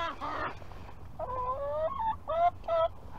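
Backyard chickens cluck nearby in a garden, several short tonal calls in quick succession, loud and close.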